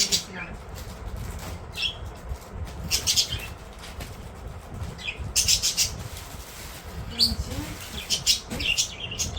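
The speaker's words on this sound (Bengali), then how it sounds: "আচ্ছা, সকালে পাখি যে টাকা ডাকছে আজকে একটু বেশি ডাকছে," Village birds calling in the morning, bursts of chirps, tweets and squawks with wing flaps, scattered across the clip over low background noise and voices.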